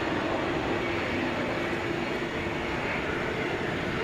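A Delta Airbus A321 airliner touches down at Atlanta, producing a steady, moderately loud engine and roll-out roar with a faint whine running through it.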